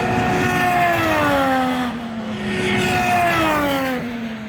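IndyCar race cars at Mid-Ohio practice scream past one after another, their high engine pitch sliding downward as each car passes, loud and continuous for several seconds with no talking.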